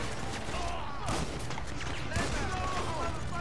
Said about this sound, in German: Ich baller jetzt ein Auto von denen kaputt, bis es explodiert.